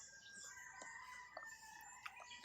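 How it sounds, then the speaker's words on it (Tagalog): A chicken clucks and crows near an entrance, faint and somewhat distant, with a few short calls over a quiet background. "Manok before sa entrance."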